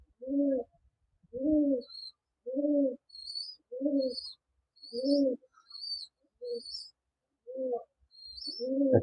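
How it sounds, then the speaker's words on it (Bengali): Rajshahi Giribaz pigeons with heavily feathered feet coo in a steady series of about eight low, throaty calls, evenly spaced and fairly close, with faint higher chirps overhead. "এটা হচ্ছে রাজশাহী গিরিবাস"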